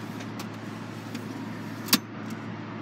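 The powered front trunk of a Tesla Model X opens automatically, a low steady motor hum with faint mechanical ticks and a single sharp click near the end, quiet and close.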